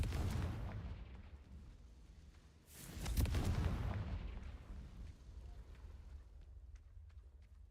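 A Confringo fire spell blasts in Hogwarts Legacy, a deep booming explosion with a rumbling roar that swells and then decays into a long low tail, moderately loud with no voices.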